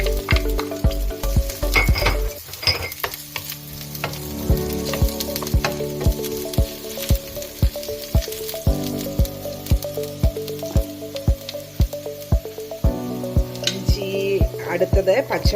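Sliced garlic frying in about one and a half spoons of oil in a pan, previously used for frying chicken, with a steady, close sizzle and crackle broken by occasional stirring clinks and scrapes.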